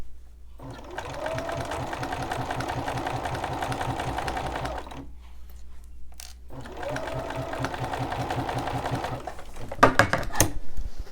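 Sewing machine stitching quilt binding in two sustained runs of rapid needle strokes, separated by a short pause, then a few handling clicks near the end, with no talk.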